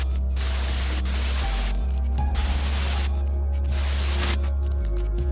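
Airbrush hissing as it sprays paint onto an O gauge Hymek locomotive model, steady noisy spray in several bursts with short pauses over a constant low hum.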